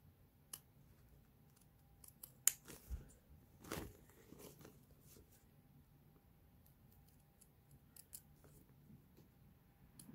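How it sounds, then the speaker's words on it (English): Scissors snipping fabric along a marked cut line, a few sparse, quiet crisp clicks and crunches with long pauses between them. "Get a good pair of scissors."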